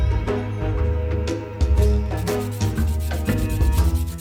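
Loud, close sanding with repeated rubbing strokes over hard epoxy resin, steady and gritty, under a constant low mechanical hum.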